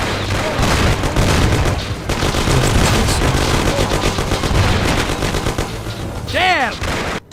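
Rapid gunfire rattles through a shootout in the video game Mafia, dense bursts of shots mixed with game effects and a brief shouted voice near the end.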